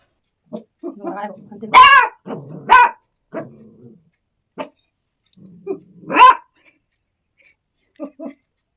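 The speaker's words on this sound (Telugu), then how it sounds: "ఆ పెద్ద కుక్కను మాత్రం అలా అరుస్తూనే ఉంది దాని మీదకి" A small dog barks repeatedly at a big dog in sharp, high yaps with pauses between bursts, loud and close, interspersed with a few growly huffs.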